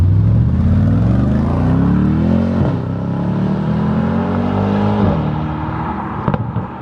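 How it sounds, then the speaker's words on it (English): A straight-piped Mercedes E63S AMG exhaust revs up and down in long rising sweeps, loud, deep and rumbling, with a few sharp pops near the end. "The pops are louder than the exhaust."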